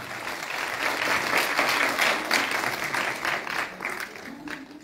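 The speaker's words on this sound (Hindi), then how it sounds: "बहुत ही जोरदार तालियां दीजिए सर।" Loud, sustained audience applause fills a convention hall in Itanagar during a National Energy Conservation Day 2022 ceremony as the chief guest is presented a bouquet and memento; the clapping stays dense and steady throughout.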